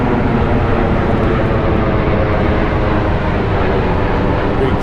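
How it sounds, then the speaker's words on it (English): A loud, steady roar of a Boeing 747 airliner passing overhead in Louisville, a continuous broadband rumble that holds constant for the whole stretch. "There's a plane flying overhead."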